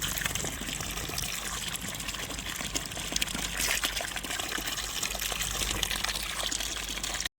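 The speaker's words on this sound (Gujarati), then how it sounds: "મિત્રો પાણી તો આવે છે," Water gushes steadily from a pipe at a roadside spot where work is going on. The rushing flow is loud and continuous for about seven seconds, with no talking.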